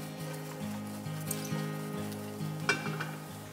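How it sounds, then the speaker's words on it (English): Mushrooms dry-sautéing over medium heat in a non-stick pan, a soft steady sizzle broken by occasional scrapes and stirring clicks, close and fairly quiet with a low hum underneath. "Dry sauté the mushrooms for about 3 to 4 minutes."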